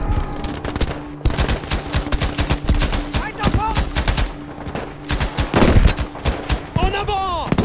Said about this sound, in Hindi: बहुत फायरिंग हो रही है।